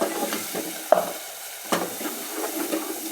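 Spices are stirred and sautéed in hot oil in a pan for a home-style dish, with a soft steady sizzle broken by a few scraping spoon strokes, close and alone.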